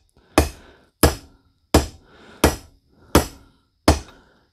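Hammer tapping a Moog U-joint into a 2001 Ford F250 driveshaft held in a clamp: six sharp, evenly spaced metallic knocks about two-thirds of a second apart, close and clear with short ringing decay.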